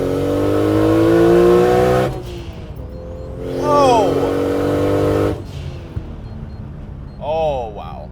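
A 400 WHP Nissan Stagea 260RS wagon with an RB26 engine revs hard on the road, rising through the gears in loud sweeping pulls with brief shift gaps and a final surge, while people talk and exclaim over it.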